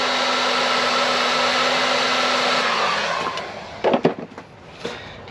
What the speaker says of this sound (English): We'll just heat shrink him down for a bit of protection.